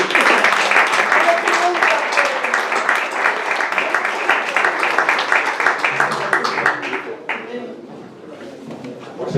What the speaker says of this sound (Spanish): Un aplauso para Juan Jesús.